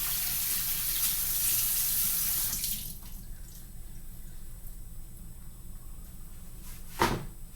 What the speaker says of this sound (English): But first, let me wash my hands.